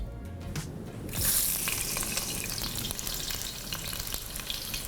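Sliced onions hit hot oil with bay leaf and cardamom for a Bohri-style cashew chicken curry, bursting into a loud sizzle that settles into a steady, close frying hiss.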